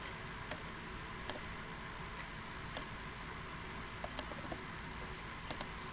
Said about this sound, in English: when we click enter